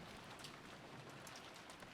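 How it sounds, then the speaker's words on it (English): Rain falls steadily in a scene from the Higurashi Hou+ video game, a soft, continuous hiss of drops at low volume with no voices over it. "There's a moment of silence, accompanied by the sound of rain."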